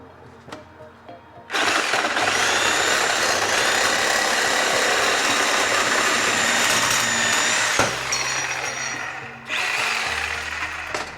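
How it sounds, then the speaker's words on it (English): A reciprocating saw cutting metal on an outdoor sign build: a loud, sustained, buzzing rasp that runs for several seconds close up, briefly stops, then starts again. "since that grinder didn't work, we're gonna try the sawzall"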